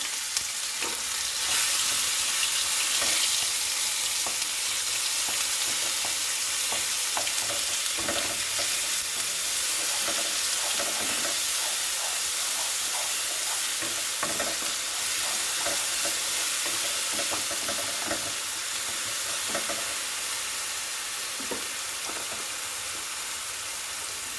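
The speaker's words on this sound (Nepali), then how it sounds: "अहिले चाहिँ मेथी चाहिँ फ्राई हुँदैछ है त।" Fenugreek seeds frying in hot oil for a chicken pickle, a steady faint sizzle and crackle running throughout with occasional soft stirring taps.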